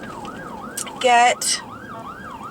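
An ambulance siren wails with a steady rising-and-falling tone, heard from inside a car, broken midway by a couple of short, loud rushing bursts.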